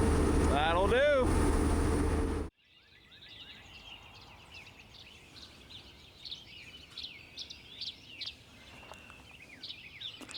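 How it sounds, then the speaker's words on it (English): Birds chirping early in the morning around six o'clock, scattered high calls and tweets at a moderate distance over a soft outdoor background, after a brief loud burst of other noise at the start. "You can hear the birds chirping."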